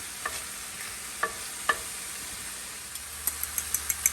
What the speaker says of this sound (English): Now that the meat is nice and brown, I'm going to push it all around to the sides here.